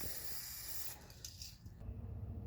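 Clear coat sprayed onto the roof of an 8th-generation Honda Civic in a dusty workshop, a steady hiss close by that wavers midway before a quieter hollow rumble takes over.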